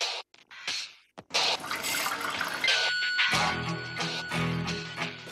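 Tap water pours into two small glasses in a kitchen setting, a few brief clinks and handling knocks followed by a continuous splashing fill that swells and then trails off.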